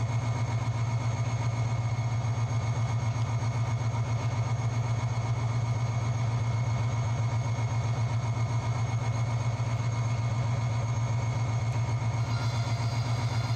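A diesel locomotive engine in a mobile train simulator game, a steady droning hum with a throbbing mechanical pulse, running unchanged throughout with no speech.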